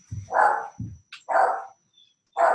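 A dog barks three times in quick succession, loud and close, with short gaps between each bark and a faint high tone in the background.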